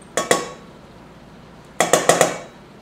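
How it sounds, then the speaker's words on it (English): Ricotta and Philadelphia cream cheese being stirred in a pan, heard as two clusters of sharp metallic clinks and scrapes of a utensil against the pan, a pair early and then four in quick succession, in a quiet kitchen. "and stir all this together"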